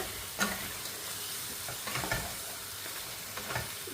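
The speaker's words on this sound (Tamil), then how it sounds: "இப்போ நண்டை வந்து நாங்கள் நல்லா மிக்ஸ் பண்ணி கொடுப்பேன். மசாலா வந்து நண்டில் பிடிக்கிற மாதிரி நல்லா மிக்ஸ் பண்ணி கொடுங்க." Crab masala is stirred in a frying pan, with a steady sizzle of frying running throughout and a few scraping spoon strokes rising above it, close and moderately quiet with no talking.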